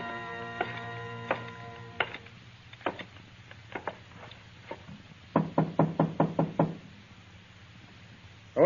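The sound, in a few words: knocking on a door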